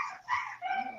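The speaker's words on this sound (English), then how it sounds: "You kicked that dog, didn't you, Steve?" A dog barks and yips in short sharp bursts, close by and fairly loud, with a whimpering edge between calls.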